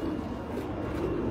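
Pigeons on a Sharjah rooftop give a low, soft cooing murmur, close and continuous for a brief moment.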